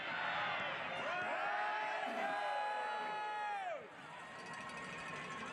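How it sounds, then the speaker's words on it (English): Rochester Rhinos fans cheer in the stadium at Capelli Sport during a USL match against Toronto FC II, a broad roar with rising whoops and sustained voices that swell, then drop away. "the Rhino crowd getting involved"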